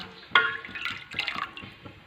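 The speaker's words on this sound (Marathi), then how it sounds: "आता यामध्ये मी वाटून घेतलेल्या डाळीचं पाणी घालून घेणार आहे" Water mixed with ground lentils is poured into a pot of spicy Maharashtrian amti dal, a sharp splash followed by two irregular bursts of liquid sloshing, fairly close and moderately loud.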